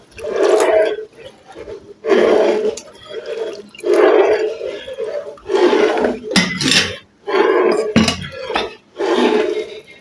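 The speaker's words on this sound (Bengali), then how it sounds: "অল্প অল্প করে দিয়ে এটাকে নাড়তে থাকতে হবে।" Custard powder being stirred into boiling milk in a pot, a spoon sloshing and scraping in rhythmic bursts with watery swirling and light clinks, close and loud.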